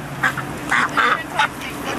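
Ducks at a park quack in several short, nasal bursts close by, with steady low background noise between calls.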